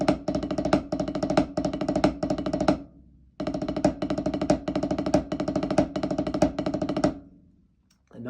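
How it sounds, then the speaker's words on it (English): Close, crisp snare drum working through the seven-stroke roll rudiment, dense rolled bursts each closed by a sharper accent, played in two continuous phrases separated by a short gap and ringing out at the end. "7-stroke roll sounds like this."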